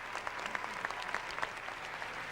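Steady applause fills a figure skating arena at the national championships during the free dance, with distinct claps popping through a continuous crowd wash.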